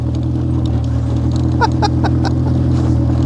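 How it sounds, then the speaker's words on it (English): A right-hand drive car's engine idling with an open header, a loud, steady, rumbling drone close by with slight fluctuations and no voices. "It's open header right now, so it's a little louder than it normally would be"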